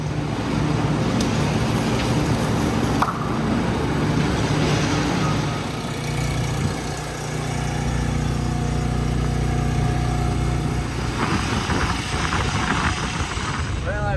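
A dumpster truck's engine drones steadily and loudly from inside the cab while driving along a highway across a valley, a constant low rumble with road noise and someone talking over it.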